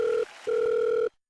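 A telephone dial tone sounds as two steady beeps, a short one then a longer one, clear and close before cutting to silence.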